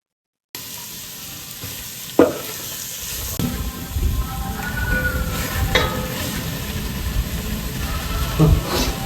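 Sliced onions and green chillies fry in oil in a pan, starting with a sharp clatter as they drop in, then a steady, building sizzle with occasional stirring knocks close by.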